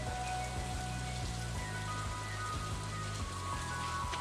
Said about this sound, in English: Okay, today it's raining, and therefore we do not have to use the watering can.